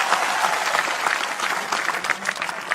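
Steady, dense clapping from an audience at a political gathering, close and sustained for a few seconds with no voices over it.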